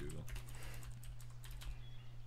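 Quick, clattering keyboard taps come in irregular bursts at moderate volume during a Magic: The Gathering Arena draft stream, over a steady low electrical hum.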